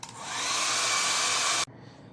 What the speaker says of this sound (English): use the heat air gun or hair dryer to dry it